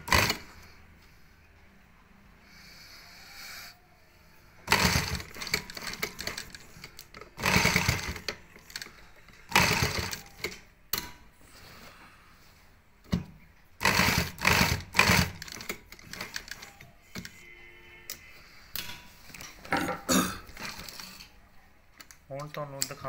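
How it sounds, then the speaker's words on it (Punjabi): Sewing machine stitching a pocket onto a garment, running in repeated bursts of rapid mechanical whirring separated by short pauses, with a person speaking quietly in between. "ਅਤੇ ਹੁਣ ਇਹਨੂੰ ਇੱਧਰੋਂ ਸਿਲਾਈ ਕੀਤਾ ਜਾਊਗਾ"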